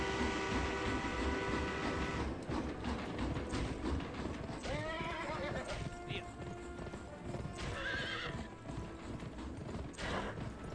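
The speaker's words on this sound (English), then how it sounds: "The train is moving out!" A moving train rumbles through the Western video game Gun on PS2, with horse hooves clip-clopping steadily alongside and a voice speaking over the busy, continuous noise.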